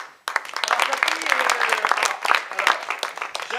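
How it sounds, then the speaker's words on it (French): A crowd applauds Jackie Chevalier after her tale and poem at an evening storytelling gathering in Plouagat, a dense steady clapping from a small audience that starts abruptly and carries on throughout. "On peut applaudir Jackie."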